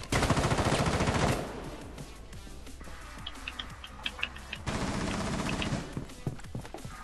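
Gunfire in Rainbow Six Siege ranked play: a loud dense burst of automatic fire up front, then scattered single shots and a second burst further off, with no speech.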